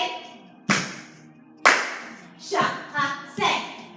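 Children clap together during a jazz dance class step drill, with five sharp claps landing in an uneven rhythm, the last three coming close together, in a room with faint voices between them.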